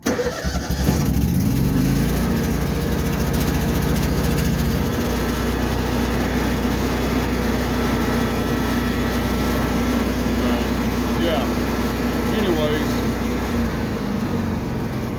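A Lincoln Ranger 330MPX generator/welder engine runs loud and close, with a roughening surge near the start before it settles into a steady continuous idle drone that lasts throughout, with no talk.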